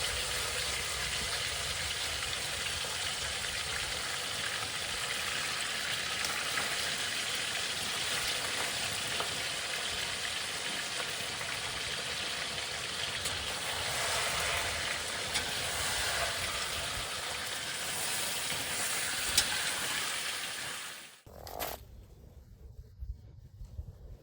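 Meat searing in a hot kazan for plov, a loud, continuous dense sizzle and crackle of frying that holds steady before cutting off abruptly near the end.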